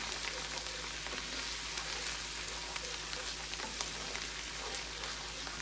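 Ground coriander being stirred in a hot frying pan gives a steady, dense sizzle with faint scraping underneath, close and continuous, with no voices.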